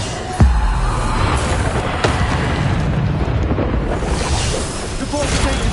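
Spell explosions in Hogwarts Legacy: a sharp bang at the start, then a dense roaring wash of blasts and crackling impacts that continues throughout, loud and close, with a voice calling out over it.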